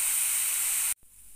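Grated beetroot frying in a pan over a gas flame while being stirred with a spatula, a loud steady sizzling hiss that cuts off abruptly, leaving a quieter lingering sizzle.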